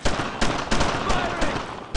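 Brothers in Arms: Road to Hill 30 gunfire, a dense burst of rapid shots with a few sharp bursts across a couple of seconds, loud and close.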